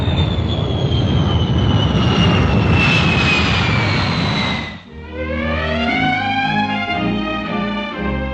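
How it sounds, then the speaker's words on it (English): A Vickers Valiant four-jet bomber roars loudly overhead, its jet whine sliding down in pitch as it passes. A fluttering, rising engine drone follows after a brief dip, with no voices. "The RAF's tremendously powerful weapon to come is the Valiant, the new 4-jet bomber"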